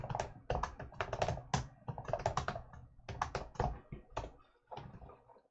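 Rapid bursts of keystrokes on a computer keyboard while code is typed, clattering in quick irregular clusters with brief pauses, close and fairly quiet.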